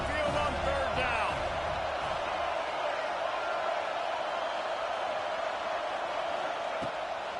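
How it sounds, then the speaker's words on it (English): Alabama Crimson Tide fans roar in a packed college football stadium on third down, a loud steady wash of crowd noise that holds at full level throughout, with a brief whistle-like swell near the start. "The Tide crowd rolling noise down onto Saban Field on third down"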